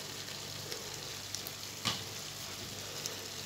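Chicken and potato filling being stirred in a frying pan, a soft steady sizzle with a faint scrape of the spoon near the middle, close and quiet, no voices.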